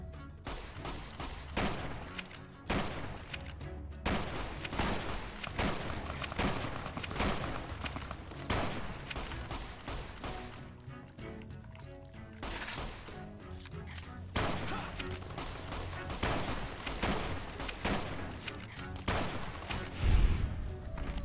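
Sustained 12.7mm submachine gun fire in Fallout: New Vegas, dense rapid bursts and overlapping shots throughout, loud and continuous with brief lulls, amid other combat noise and occasional voices.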